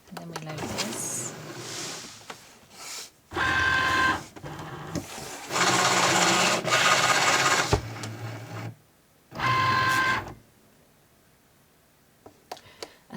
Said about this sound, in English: And so this will cut the stencil for the neckline so that I get them all the same.